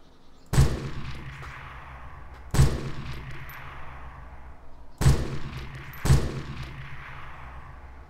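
Four loud AS50 sniper rifle shots in DayZ at the NWAF airfield, each a sharp, heavy crack with a long rolling echo, spaced a few seconds apart and the last two closer together.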